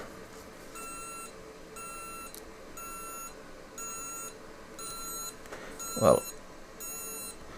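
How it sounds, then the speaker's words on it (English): An ANCEL BM200 PRO battery monitor gives a series of faint, evenly spaced electronic beeps at a quiet level, with a brief word spoken near the end. "It's beeping here."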